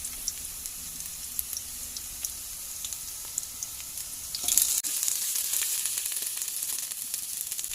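Shrimp hitting a hot pan with browned aromatics, a quiet hiss that jumps to a loud, steady sizzle halfway through, close up, no talk.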